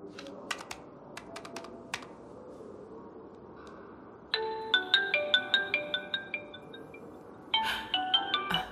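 A mobile phone ringing unanswered in a domestic drama: a repeating electronic ringtone pattern starts midway and cycles loudly after quiet keyboard-like tapping, with no talk over it.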